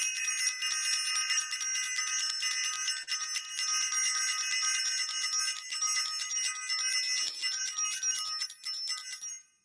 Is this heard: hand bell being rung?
yes